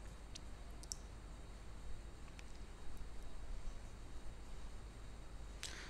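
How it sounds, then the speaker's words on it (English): A computer mouse gives a few sparse, sharp little clicks over a faint steady electrical hum, close and quiet, with no talking. "Let's right click on it, go to design view."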